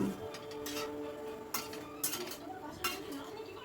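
Okra and vegetables are stirred in a pot with a spoon, giving a few scattered clinks and scrapes against the metal over a steady low cooking background.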